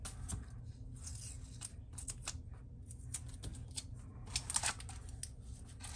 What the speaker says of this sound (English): Should grab some scissors or something to cut that tape with.